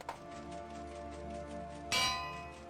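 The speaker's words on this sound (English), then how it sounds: "See if bell even works." A bell in the Minecraft video game rings with a sharp metallic clang, struck twice: a soft hit at the start and a louder, brighter strike near the end, heard alone and close.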